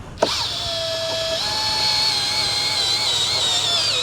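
A power drill bores into marble stone while fitting window shutters, its motor whining steadily and loudly after a sharp start, pitch shifting slightly as it bites under pressure, with no talk.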